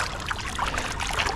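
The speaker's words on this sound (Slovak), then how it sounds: "Prší." Rain falls steadily during a carp-fishing outing, a close, even hiss and patter with no pauses across a short stretch.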